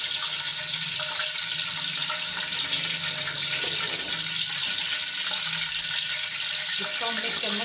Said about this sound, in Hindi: इधर मैंने कढ़ाई में घी डाल के रख दिया, अब इसके अंदर हम डालते हैं।